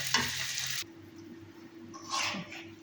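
Mashed potatoes being tempered in a hot pan give off a loud sizzle at the start that cuts off abruptly, followed by a low hum and a second, shorter burst of frying hiss.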